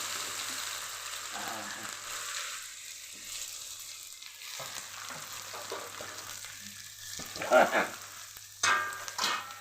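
Onion frying with okra in a pan, with a constant low sizzle, a few quiet stirring scrapes and a couple of louder clatters near the end.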